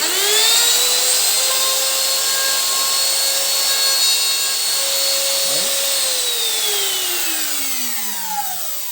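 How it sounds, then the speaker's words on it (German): A wood CNC router spindle whines at a high steady pitch while cutting wood with a template, the tone gliding briefly around the middle and dropping as the motor winds down at the end. "Machen die Fräse an und dann geht es weiter."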